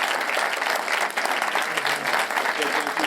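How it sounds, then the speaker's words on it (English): An audience at a clean energy event claps for its panelists, a dense, steady round of applause that fills the whole stretch, with voices mixed in. "Can you give them a round of applause?"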